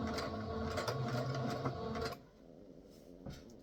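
Sewing machine running a zigzag stitch with back stitching on fabric for shirring, a close rapid mechanical whirring for about two seconds, then stopping, leaving a quiet pause and a small knock.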